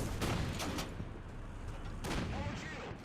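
Booming tank cannon fire in the War Thunder video game, a few heavy shots with rumbling tails over a dense, continuous battle din, fairly close and loud.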